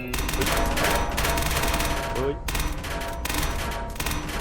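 Gunfire rattles in the Roblox game SCP Task Forces at Site-19, sustained rapid machine-gun bursts at close range that run almost continuously with brief gaps.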